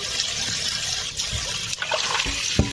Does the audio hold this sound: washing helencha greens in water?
yes